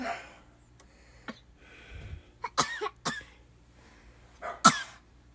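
A few sharp, close coughs scattered over several seconds, with quiet breathing and faint background noise between them.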